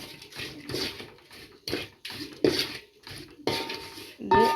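Chili and turmeric powder being stirred in a pan over low flame, a series of spoon scrapes and metallic clinks in separate bursts with quiet gaps between.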